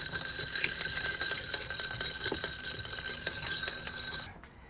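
A spoon stirs creamer into a cup of strong, espresso-style coffee, giving quick rhythmic clinks against the cup that stay close and clear for about four seconds before stopping, with no voices.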